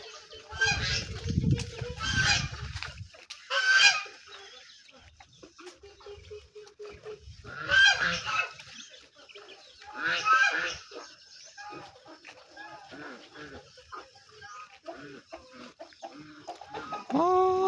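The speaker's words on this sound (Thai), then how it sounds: "โอ้พี่น้องเป็ดไก่พี่น้องแลนมาพี่น้อง" Ducks and chickens calling outdoors, with loud honking quacks and clucking crowing bursts that come in uneven waves, close by and dominant, with a low rumble early on.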